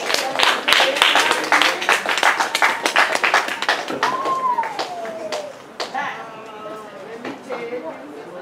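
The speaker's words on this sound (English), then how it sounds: "Let's give our performers another round of applause" Enthusiastic audience applause for performers at a live-streamed gathering, dense loud clapping that gradually thins and fades into scattered claps, with a voice speaking and some crowd noise underneath.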